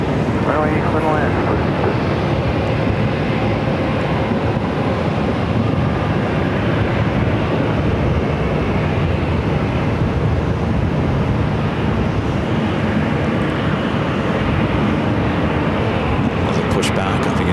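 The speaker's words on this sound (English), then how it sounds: "Pushback of the United 737. I believe this is a 8 or 900 pushing back." A United Boeing 737 airliner is pushed back at Phoenix airport, its engine and ground noise a steady, loud broadband roar with wind buffeting the microphone throughout.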